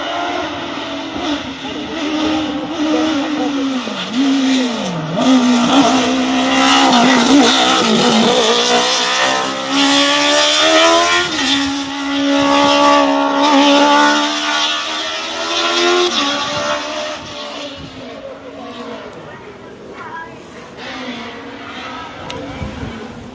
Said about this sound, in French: c'est David Vitorino qui est en piste avec la Martini